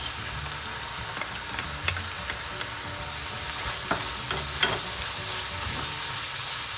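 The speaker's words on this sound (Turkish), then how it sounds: "Soğanlarda da biraz kavrulduktan sonra biberlerimizi ekleyeceğiz" Onions and minced meat fry in a pan for baked stuffed eggplant, giving a constant close sizzle broken by scattered light scrapes and taps of a stirring utensil, with no talking.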